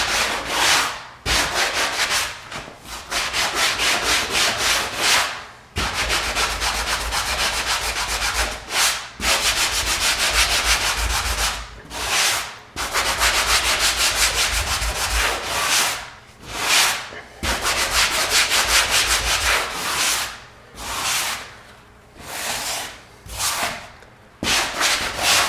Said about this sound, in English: I like to use these sanding blocks, they're foam.